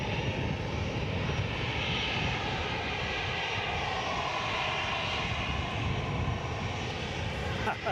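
An airliner departing Edinburgh Airport gives a steady, broad engine roar that holds fairly constant throughout, heard at moderate distance, and a voice talks at times.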